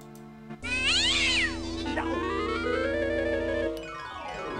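A cartoon cat in Indiana Jones and the Fate of Atlantis lets out a single loud, drawn-out meow with a rising then falling wail, up close and clear over a low steady game hum.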